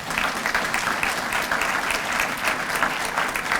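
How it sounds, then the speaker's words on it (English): A convocation crowd at the ASU MLK event applauds teachers: dense, sustained clapping from many hands, steady and fairly loud throughout. "We need to give them a round of applause right now"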